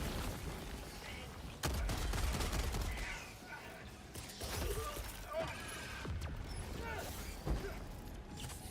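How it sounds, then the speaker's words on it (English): A machine gun fires in a VHS horror video game, scattered sharp bursts and rattles over a noisy, crackling background, with voices talking at points. "There you go, machine gun."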